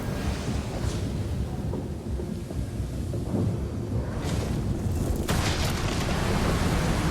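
A deep explosion rumbles through a God of War (2018) game scene, a low roaring boom with a sustained heavy rumble and a sharper burst near the end.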